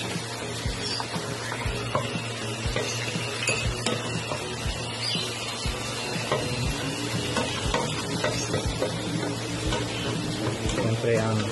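Garlic frying in hot oil in a pan for a chicken curry, a steady close sizzle with light clinks and stirring, while a voice talks over it.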